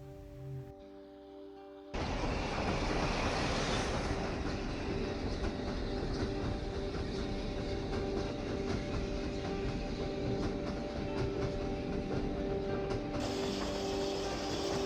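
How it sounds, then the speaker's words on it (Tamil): A train runs along a snowy mountainside during snowfall, its steady rumble and rail clatter starting abruptly after a quiet moment and continuing loud and unbroken. "திரும்பி பார்த்தா இந்த ஸ்னோஃபாலுக்கு நடுவில் அந்த மவுண்டனில் ஒரு ட்ரெயின்."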